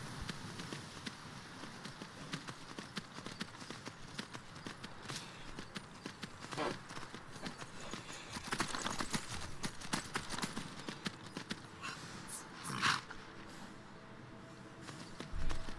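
Steady clip-clop of horse hooves on a hard surface in Skyrim, rhythmic and continuous, with a brief louder burst near the end.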